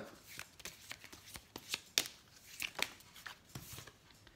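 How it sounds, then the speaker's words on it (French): Tarot cards being laid out and handled on a table, a quiet series of soft card slaps, flicks and shuffling rustles at an uneven pace, close and alone. "Alors, on va mettre quelques cartes"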